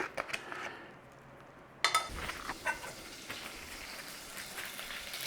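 Butter melting and sizzling in a frying pan, with a steady crackling hiss close by and a few sharp scrapes and clinks from a utensil on the pan.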